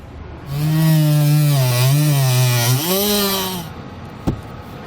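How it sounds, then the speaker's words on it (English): Dremel rotary tool with a cutoff wheel cutting out a section of a hitch panel on a 2018 Tesla Model 3, a loud high whine that sags and rises in pitch under load for several seconds before spinning down. "Now I'm just going to use a Dremel tool with a cutoff wheel to cut this out."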